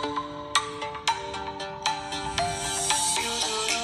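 Music plays through the loudspeaker of a Samsung phone, a bright melodic tune with plucked, bell-like notes in a steady rhythm, fairly loud and close, with no talking.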